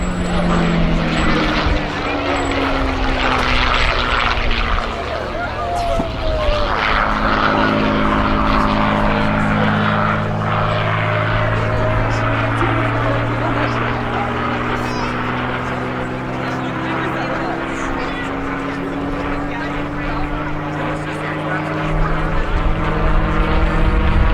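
A World War II propeller fighter plane drones overhead at an air show, its engine tone swelling and sliding in pitch as it passes, loud and continuous throughout.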